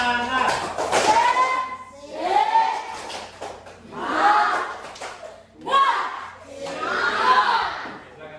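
A standing group performs a rhythmic encouragement clap, tepuk semangat, in several bursts of patterned clapping, with loud chanting voices and an instructor calling out between rounds.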